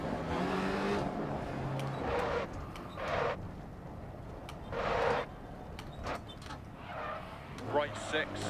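A Peugeot 205 T16 Evo 2 rally car in DiRT Rally revs and shifts along a stage, engine rising and falling in bursts with brief tire noise, under frequent talk from a co-driver or player.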